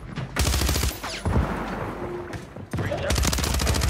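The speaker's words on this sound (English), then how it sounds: "I'm getting shot from behind." Bursts of video game gunfire during an online shooter match, several loud broadband volleys with brief gaps between them, close and dense.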